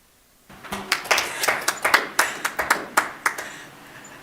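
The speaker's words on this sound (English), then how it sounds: "We just applaud when they show up." Applause for teachers returning to school in person, a small group clapping in an uneven burst that starts abruptly and continues with distinct, fairly close hand claps for several seconds, no voices.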